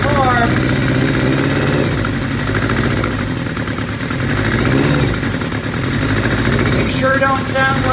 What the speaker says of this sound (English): But you can hear the difference between where it was back in 2018. You can hear those carbs.